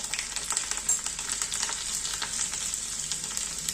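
Mustard seeds, cumin and seven or eight garlic cloves sizzling in hot oil, a bright continuous crackle with tiny pops and light stirring, close and steady throughout.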